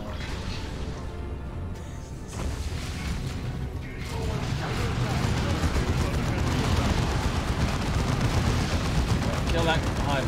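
Video-game battle with gunfire, artillery and mechanical clanking, a sustained dense barrage that thickens and grows louder midway, with a voice speaking over the noise.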